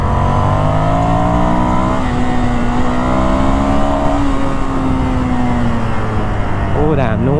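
A Ducati Scrambler Desert Sled motorcycle accelerates hard with its rear wheel spinning, the engine note climbing and holding under strong wind rush, with a quick rising rev near the end.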